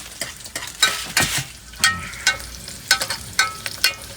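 Chicken curry with masala, cooked inside a tanker vehicle in Goa, is stirred and fried, giving a soft sizzle broken by repeated sharp scraping and clanking strokes of a utensil, close by with no talking.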